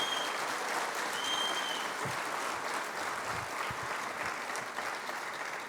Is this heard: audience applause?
yes